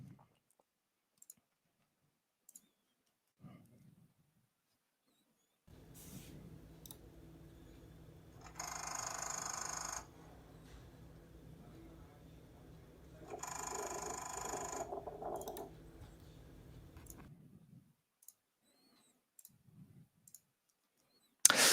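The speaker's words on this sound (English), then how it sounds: "The Valvetronic servo motor making rattling noise when DME is waking up" A BMW Valvetronic servo motor rattles as the engine electronics wake up, with faint clicks followed by a steady low mechanical whir and two louder buzzing rattle bursts of about two seconds each, heard close.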